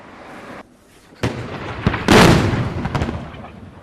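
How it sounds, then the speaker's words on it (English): Iron Dome interceptors meeting a barrage of incoming rockets produce a series of sharp explosive bangs and pops, one loud burst in the middle with several smaller cracks around it, heard at a distance with no speech. "the Iron Dome is also trying to stop the barrage of rockets coming in from that area."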